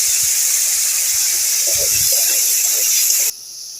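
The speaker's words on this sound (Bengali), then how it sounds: "সামান্য হলুদ গুঁড়ো আর সামান্য নুন দিয়ে আমি আলুটাকে লাল লাল করে ভেজে নেব।" Potatoes fry in hot oil in a wok with turmeric and salt, making a loud, steady sizzling hiss that runs without a break before it suddenly drops in volume near the end, with faint murmuring beneath.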